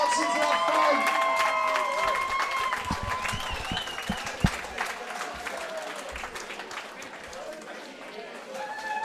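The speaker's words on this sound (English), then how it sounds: "Ladies and gentlemen, give some applause for the 3 fighters there" Arena crowd applauding and cheering for fighters after a bout, steady dense clapping throughout with crowd noise and some talk mixed in.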